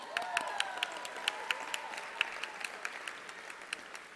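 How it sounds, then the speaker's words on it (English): Applause from a town hall audience gathered for a university event with elected officials. Steady clapping fills the room, with sharp individual claps popping out above a continuous wash of hands. "a warm round of applause"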